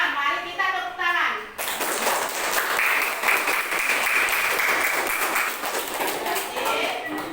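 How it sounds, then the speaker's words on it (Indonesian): Children in a classroom clap together after a short spoken prompt, a loud, dense burst of applause that starts abruptly and carries on steadily, with a few rhythmic pats and faint voices mixed in. "Mari kita tepuk tangan"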